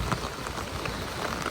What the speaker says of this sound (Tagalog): Umuulan, no? Venus rainy. Buong araw.